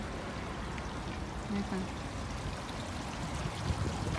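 Small decorative garden waterfall at a garden centre selling garden ornaments, a steady close splashing trickle of pouring water, with a voice speaking softly over it.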